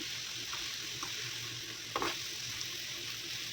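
Shredded papaya stir-fried in a pan for a hotel-style papaya bhaji, with a steady soft sizzle and occasional scraping stirs, one of them louder, close by and without talk.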